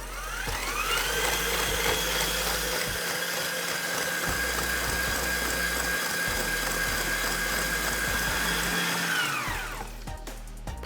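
An electric mixer whisks eggs and sugar for brownies, a steady motorized whir running continuously for about nine seconds before winding down and stopping.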